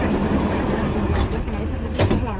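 A Dubai metro train running, with a loud continuous rumble of wheels and carriage noise and faint rhythmic clatter throughout.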